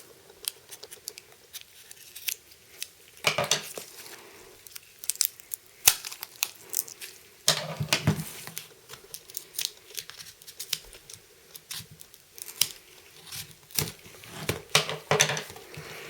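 Tape being cut and torn off a heavily taped package holding Star Wars CCG cards, close crinkling, tearing and snipping in irregular bursts with sharp clicks, no talking.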